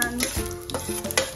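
Whole spices (bay leaf, cinnamon, caraway, cardamom, peppercorns, cloves) crackling in hot oil for a spicy chicken curry, with close, irregular pops and sizzling bursts over a steady fry, and a faint tonal hum beneath.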